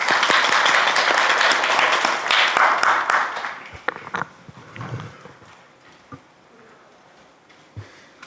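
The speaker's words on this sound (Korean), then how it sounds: "박수로 맞이하겠습니다." An audience at a National Assembly forum on patient safety education applauds to welcome a speaker. Dense clapping fills the first few seconds, then fades to a few scattered claps and quiet room noise.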